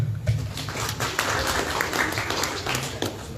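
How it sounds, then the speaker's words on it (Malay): Small gathering at an Isra' Mikraj religious talk clapping together, a brief burst of applause that rises quickly and fades, with a little talk mixed in. "Tepukan untuk."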